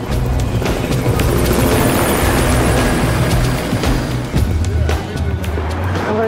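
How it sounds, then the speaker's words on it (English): Police helicopters hovering overhead at night above a rough-sleeping area in the USA, a loud continuous rotor thump and engine drone filling the background, with some street noise mixed in. "As we arrived, police helicopters hovered above."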